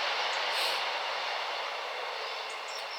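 A train thunders past an allotment garden, a loud, steady, broad roaring rush that fades slightly as it goes, with no voices.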